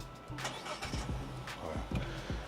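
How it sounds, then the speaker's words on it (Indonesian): A Mazda CX-60 Sport's large 2500 cc engine cranks and fires with repeated starter whirs and thumps, then settles into a rumbling idle close by. "suara mesinnya masih kedengar pas di starter, wajar ini karena dia pakai mesin besar ya, 2500 cc"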